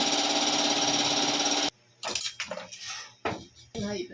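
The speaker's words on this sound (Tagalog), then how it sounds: "Tire changing machine." A tire changing machine works on a tubeless scooter tire for a Honda Beat, giving a loud steady motor whir that stops abruptly, followed by irregular clanks and short mechanical bursts.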